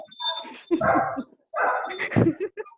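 A dog barks and yips a few times during an online class, with short sharp bursts in two groups, close and fairly loud, with people talking around it.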